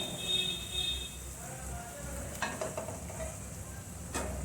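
Spiced tempering with garam masala poured into cooking whole masoor dal: a soft sizzle under repeated stirring scrapes and a few sharp clinks, fairly quiet and close.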